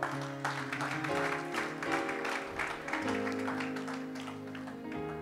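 A church congregation applauds the Lord, a steady wash of many hands clapping for several seconds, with organ or keyboard chords sustained underneath.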